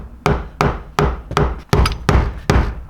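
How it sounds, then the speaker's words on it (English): A hammer strikes a part tight on a BMW E36 fuel tank during a fuel pump replacement, eight sharp, close metallic blows landing in a fairly even rhythm about every third of a second, loud and alone. "hammer this thing tight."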